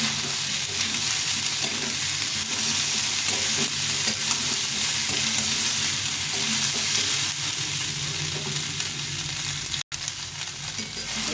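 Fried soybean chunks and browned potatoes frying in oil in a pan, a dense continuous sizzle that stays loud and even throughout, close up with faint stirring and no voices.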